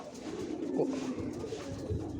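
Pigeons coo softly and repeatedly over a constant low background hum, close by and fairly quiet.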